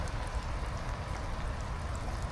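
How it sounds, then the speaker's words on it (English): Steady rain falls outdoors at a trainspotting spot on a wet March day, a soft, even hiss of drops spread across the whole clip with no breaks and no voices. "While we're waiting out here in the rain,"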